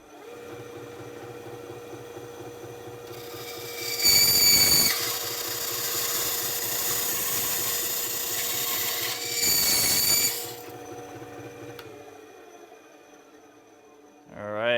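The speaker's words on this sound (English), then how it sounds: "let's go ahead and try to make this cut." A power saw with its guard kept close cuts a piece of robot superstructure in two loud bursts of several seconds each, separated by a steady motor whine, with a short rising whir at the end.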